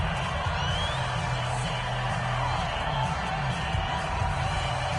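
A domed stadium crowd in an American football video game on PS4 holds a steady, dense roar with occasional swells of cheering, filling the whole stretch without a break.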